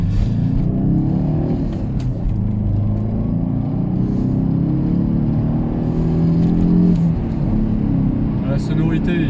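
An Alfa Romeo 145 engine drones and revs during a drive, its low steady rumble rising and falling beneath continuous conversation.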